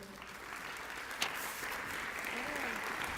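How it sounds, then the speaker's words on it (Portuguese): An audience at an education conference claps to welcome a linguistics researcher, a steady wash of moderately distant applause with a murmur of voices, holding evenly for the whole stretch. "La recibimos con un fuerte aplauso"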